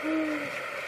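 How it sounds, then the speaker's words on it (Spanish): A long-eared owl gives one short, soft, low hoot, heard alone against a quiet, faintly hissing background. "El búho chico, vamos a ponerlo"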